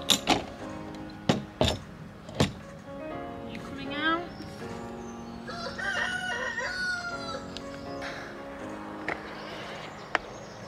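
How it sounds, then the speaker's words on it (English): A rooster crows loudly nearby with a long, rising call, amid sharp clinks, clucking hens and a voice speaking. "that's a friendly cockerel"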